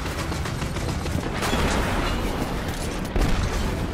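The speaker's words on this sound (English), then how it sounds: "I just dropped some missiles on them" Missile explosions blast enemies in the video game Destiny 2, a dense, continuous barrage of booms and rattling gunfire with a heavier burst near the end, loud and unbroken.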